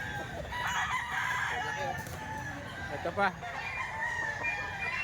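Rooster crows and clucks sound faintly in the background of a busy poultry sale, partly masked by crowd noise while someone talks briefly.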